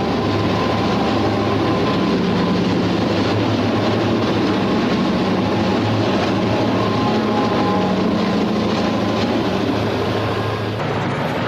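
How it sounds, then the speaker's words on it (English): A freight train pulls up a mountain grade at Gulf Summit on the Erie Lackawanna railroad, with a pusher helping at the rear. It gives a steady, loud, continuous rumble of engines and cars for the whole stretch, with no talk over it. "That's the same train we saw earlier, pulling up the hill."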